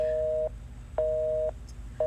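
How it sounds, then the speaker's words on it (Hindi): A phone call-waiting tone sounds over the line as three clean repeating beeps, each about half a second long, separated by equal gaps of silence. "मेरा फोन ना वेटिंग पे आ रहा है"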